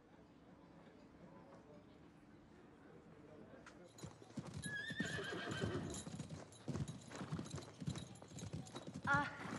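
Horse hooves clip-clop in a steady rhythm, growing louder and closer after a quiet start, with a whinny and other noises mixed in over background ambience.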